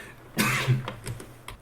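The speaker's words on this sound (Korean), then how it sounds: "기침 나왔어요" A single sharp cough followed by a couple of smaller throat-clearing coughs, close and fairly quiet in a still room.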